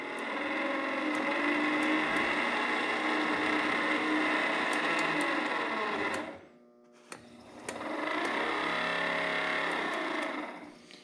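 A battery-powered trolling motor for a 1972 14-foot Alumacraft row boat whirs with a loud, steady electric drone close by, cuts out briefly near the middle, then spins back up and runs on; no voices.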